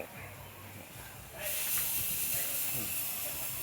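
Refrigerant bursts out of a Panasonic home air conditioner that cools poorly, a sudden loud, steady hiss cutting in after a quieter stretch with faint voices nearby.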